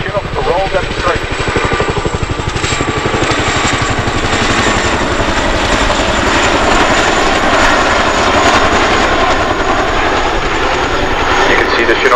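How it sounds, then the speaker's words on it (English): A Chinook twin-rotor helicopter flies a display at the RAF Cosford air show with a battlefield gun slung underneath, its loud, continuous rotor thump and engine roar filling the air steadily throughout. "please turn your eyes to the sky for the 2024 Chinook roll demonstration"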